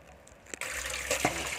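Freshly picked vegetables rinsed in water: a short, close splash, then continuous sloshing and running water, with a couple of brief splashes.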